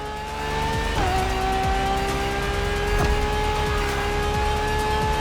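A Ferrari LaFerrari hybrid sports car in the racing game The Crew Motorfest gives a loud, sustained high engine note with one quick gear change near the start.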